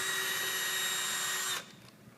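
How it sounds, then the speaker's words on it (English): A power drill whines steadily as it bores up through a ceiling for a star field fiber-optic installation, loud and continuous before cutting off abruptly, leaving a faint quiet tail. "you'll have one person drill up"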